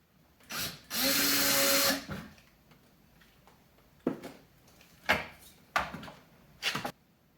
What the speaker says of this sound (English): All we gotta do is put another screw right here to mount it.